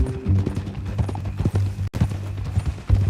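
Horse hooves clip-clopping in Red Dead Redemption 2, a steady walking rhythm of hoof thuds close by, with low rumbling ambience and a brief dropout midway.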